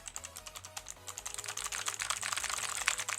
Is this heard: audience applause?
no